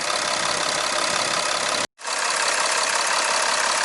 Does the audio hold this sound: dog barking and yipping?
no